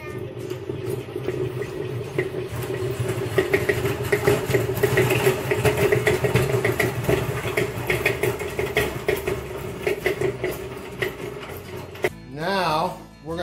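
A honey extractor spins frames of honey with a steady mechanical whir and hum that continues for about twelve seconds, then cuts off abruptly before a short, different sound at the end.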